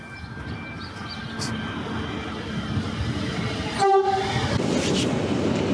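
A Melbourne commuter train ride heard from inside the carriage, with a steady rumbling roll throughout, a brief horn-like tone near the end and faint rail clatter, close and loud with no talking.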